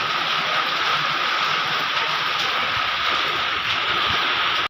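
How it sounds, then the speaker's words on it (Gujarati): Heavy rain pours down outdoors in the early morning, a dense, steady roar of water that stays loud and unbroken throughout with no voices. "ફૂલ વરસાદ"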